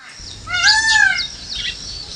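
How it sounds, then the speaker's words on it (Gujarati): A peacock calls outdoors, one loud, rising-and-falling wailing cry with clear harmonic bands, followed by a fainter, shorter call against a quiet background. "મસ્ત મજાના મોરલા પણ બોલે છે ને."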